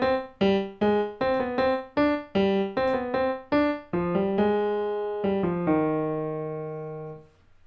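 A fugue subject melody sounds in the tenor line, played as clear, close keyboard notes: a run of short, detached tones followed by longer connected notes over a lower voice, the last note ringing and fading.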